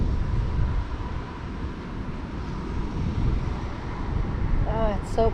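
Strong beach wind buffets the microphone with continuous low rumbling gusts throughout, while people talk over it and a brief bird call rises near the end.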